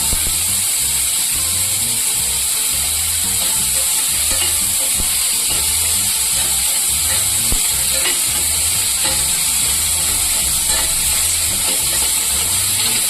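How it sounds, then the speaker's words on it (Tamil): Small potato pieces sautéing in ghee with cumin, a constant close sizzle and hiss with faint stirring taps throughout, no voices. "சீரகம் போட்டுட்டோன்னே நம்ம ஒரே ஒரு உருளைக்கிழங்கு இந்த மாதிரி குட்டி குட்டியாக நம்ம கட் பண்ணி போட்டுக்கலாம்."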